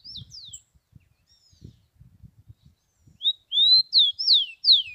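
A rufous-collared sparrow, with male and female perched together on a wire, sings a series of clear, high whistled notes, louder toward the end, over faint low background noise.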